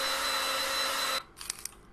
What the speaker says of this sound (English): and you can use drills